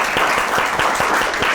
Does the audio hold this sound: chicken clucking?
no